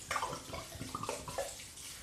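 Sauvignon white wine poured into a chicken marinade for Portuguese-style chicken, about 1.5 litres, a close, gurgling splash of liquid in uneven bursts with no talking.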